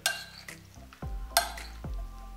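Beet salad dressed with apple vinegar and sunflower oil being stirred in a bowl, a few short wet scrapes and clinks of a utensil, close and quiet with no talking.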